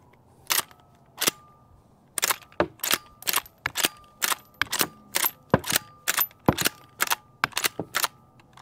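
Brand-new Smith and Wesson 1854 lever-action rifle in .44 Magnum with walnut stock, cycled by hand to eject rounds, giving a quick series of crisp metallic clacks and clicks, close and sharp, in an uneven rapid rhythm with short pauses.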